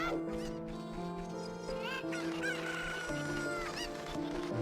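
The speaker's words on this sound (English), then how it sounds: "The first thing I want to do is collect these chickens so I can get a bottle." Chickens clucking and crowing in The Legend of Zelda: Ocarina of Time, layered over steady game music in a village, with the fowl calls loud and repeated throughout.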